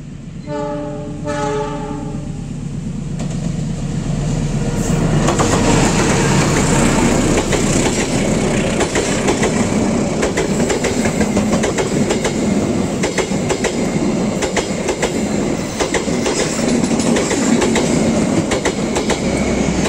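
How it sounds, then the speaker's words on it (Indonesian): Papandayan passenger train sounding its horn, then rumbling loudly past Sasaksaat station with continuous clattering wheels and steady roar, close by in a quiet rural morning setting. "Ini dari arah barat kayaknya Papandayan kawan, akan melintas langsung stasiun Sasak Saat dengan tujuan akhir stasiun Garut."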